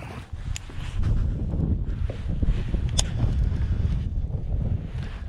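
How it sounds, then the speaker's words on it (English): Strong wind buffets the microphone on open water from a Pelican Catch PWR 100 fishing kayak, a steady low roar with gusty swells and occasional small splashes or knocks. "it is fairly windy today"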